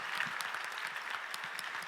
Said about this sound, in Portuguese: A gente pode bater palmas a Deus